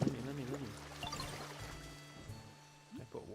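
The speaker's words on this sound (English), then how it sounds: "I put grass in the water." A watery pour-and-splash game effect as grass is dropped into water in the video game Pokémon Pokopia, with a brief liquid trickle between bursts of speech.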